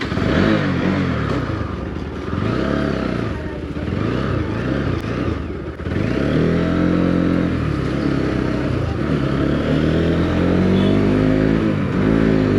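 A motorcycle engine revs and settles through repeated gear changes while riding, rising and falling pitch sweeps close to the microphone with a brief dip mid-ride, wind noise throughout.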